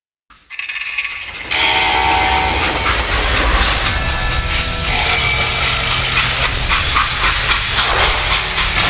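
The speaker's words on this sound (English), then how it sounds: "how'd they stop this train in the first place?" Steam train from a Wild West video game about Jesse James running loudly on rails with continuous hiss and rumble, a steady clattering roar holding for most of the stretch after a brief quieter start.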